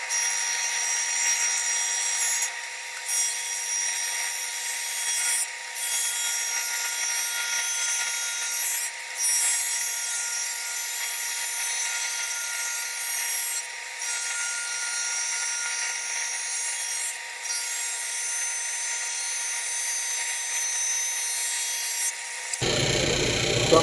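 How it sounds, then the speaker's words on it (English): A sander runs steadily over reclaimed wood with the nails pulled out, giving a continuous high, gritty whir. Brief regular dips mark passes across the board, and it ends with a short thump. "I'm going to run it through my sander"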